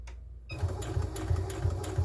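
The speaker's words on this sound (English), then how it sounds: "I'm going to sew all the way down on both sides" After a short quiet moment, a sewing machine starts up and runs continuously, stitching fabric bunting pieces with a steady, close, rhythmic needle clatter.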